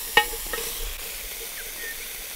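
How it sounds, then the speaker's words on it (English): Bacon sizzles steadily in a hot pan over a campfire, a continuous crackling hiss, with a sharp clink of a utensil near the start and a few softer taps after. "Best sound to any breakfast is a bit of bacon sizzling on the fire."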